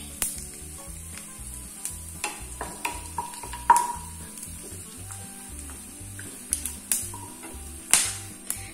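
Whole spices, cinnamon, cloves, cardamom and cumin, sizzling in hot ghee in a pan for a paneer masala, a steady close crackle with sharper pops and a few stirring taps, no talk.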